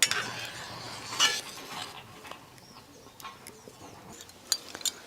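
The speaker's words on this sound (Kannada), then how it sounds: "ಕೇಸರಿಯನ್ನು ಹಾಲಿನಲ್ಲಿ ಹಾಕಿ ಸರಿಯಾಗಿ ಮಿಕ್ಸ್ ಮಾಡಿ" A spoon stirs saffron strands into milk, producing light scattered clinks and scraping taps against the vessel, faint and irregular, with quiet kitchen background.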